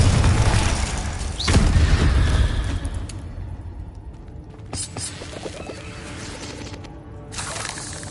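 Confringo blasting spell from the Hogwarts Legacy game on PS5: a loud booming burst near the start with a rumbling tail, followed by softer crackling impacts and debris clatter fading out.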